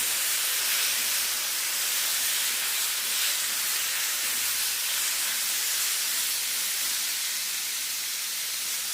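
Chicken pieces sautéing in a pan for a restaurant-style chicken curry, giving a steady, fairly loud hiss and sizzle that runs unbroken throughout with no talking.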